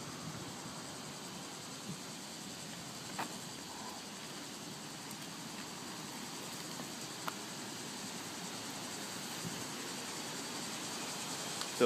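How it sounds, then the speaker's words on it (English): Cicadas sing on a summer morning in Japan, a faint, steady high-pitched drone spread across the background with a few soft clicks, no talk. "cicadas I've heard this year in Japan"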